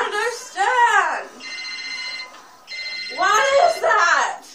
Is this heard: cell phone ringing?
yes